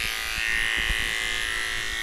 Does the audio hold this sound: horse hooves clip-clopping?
no